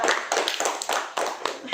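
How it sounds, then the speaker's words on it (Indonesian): A seminar audience gives a short burst of applause for Wahyu, a quick patter of several hands clapping close by, with a voice murmuring faintly underneath. "Aplaus untuk Wahyu."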